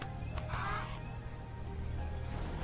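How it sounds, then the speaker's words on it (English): Crows cawing in the fantasy strategy game Age of Wonders III, a couple of short harsh calls early on over a steady low game ambience, with no speech. "So there's my crows, they can be my scouts."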